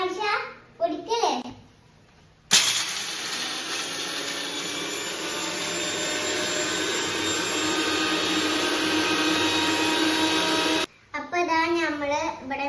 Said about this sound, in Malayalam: അപ്പൊ ഇനി നമുക്ക് മിക്സിക്ക് ഇടാം കേട്ടോ.